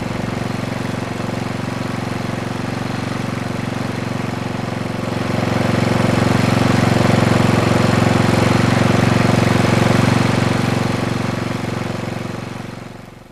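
A Tecumseh small engine idles steadily on its own, a loud, even drone that rises slightly in intensity partway through before easing off at the end.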